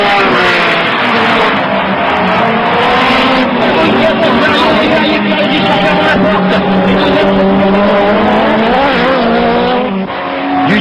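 A Renault 21 Turbo Superproduction race car from 1988 drives hard on a street circuit, its engine loud and close with pitch rising and falling through sustained tyre squeal, under continuous talk.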